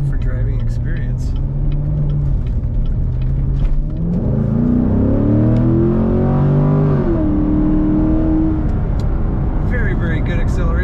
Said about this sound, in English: Very good acceleration, as you might expect from a Z51 Corvette.